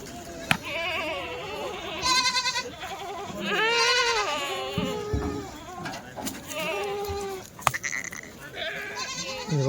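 Kathiawadi goats bleat repeatedly at a goat sale, many overlapping near and far calls, with people talking among them.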